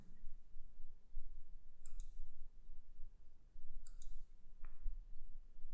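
A computer mouse clicks on a word in a reading app: two faint, sharp double clicks a couple of seconds apart over quiet background hiss, with a lighter tick near the end.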